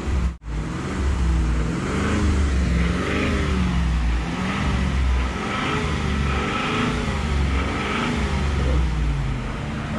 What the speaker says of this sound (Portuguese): acelera pra mim a caminhonete aqui